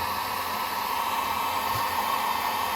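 A heat gun blows steadily while heating the base of an Apple Time Capsule so it can be peeled, a constant close airy whine without pause.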